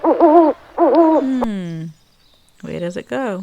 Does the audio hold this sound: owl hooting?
yes